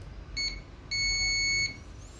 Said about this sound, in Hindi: नीचे वाले पॉइंट पे बीप दे रहा है